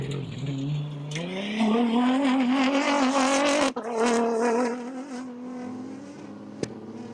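A Toyota Gazoo Hilux rally car launching at the start of a desert race prologue, its engine revving loudly and climbing in pitch through gear changes as it pulls away, then fading into the distance.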